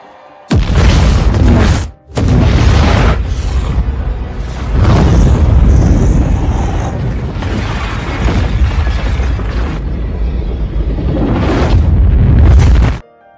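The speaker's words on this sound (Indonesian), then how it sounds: "tiba-tiba sebuah bom dengan hulu ledak yang sangat dahsyat meledak" A powerful bomb explodes in a film, a loud, sustained roaring blast with deep rumble that swells and cuts out briefly, then continues in long booming waves.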